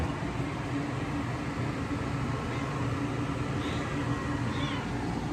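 A cat meows a couple of times, faint and strained, beneath loud steady rushing water that nearly masks the calls.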